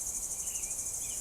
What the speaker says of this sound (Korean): 풀벌레 소리